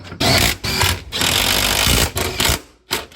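Impact gun driving exhaust bracket bolts on a BMW E91 wagon with a custom exhaust, heard as loud rattling bursts, several in a row separated by short pauses, close by.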